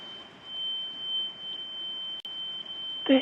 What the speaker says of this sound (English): Did you just set your smoke detector off?